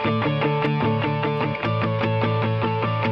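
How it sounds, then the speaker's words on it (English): Distorted punk rock guitar loop built in FL Studio, run through tape echo and ROM Airy reverb, chugging in a steady repeated rhythm of loud, dense chords with a brief dip midway. "Add this tape echo and this reverb. It's one of my favorite reverbs, the ROM Airy reverb."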